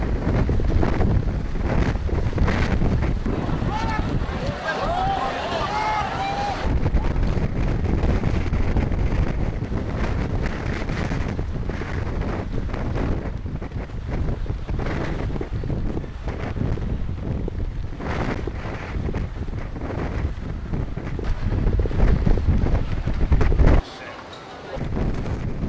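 Strong wind roars steadily at the Cape Town Cycle Tour start area, buffeting the microphone with heavy, rumbling gusts throughout and a brief lull near the end, with voices faintly audible beneath the noise.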